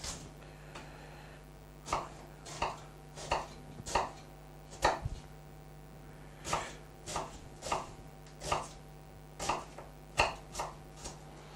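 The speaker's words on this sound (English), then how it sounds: "let's cut in big coarse pieces for this one" A knife chops an onion into big coarse pieces on a cutting board, producing about fifteen sharp, separate thuds in an uneven rhythm. The chops are close and distinct over a faint steady background hum, with no speech.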